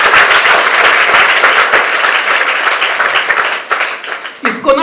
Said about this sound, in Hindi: जोरदार ताली इस बच्चे भावेश के लिए।